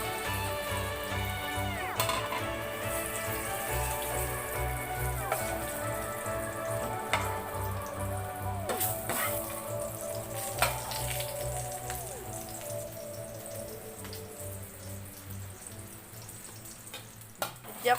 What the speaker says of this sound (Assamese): এইখিনি ভালদৰে ফ্ৰাই কৰি ল'ব যেতিয়ালৈকে গল্ডেন ব্ৰাউন নহয়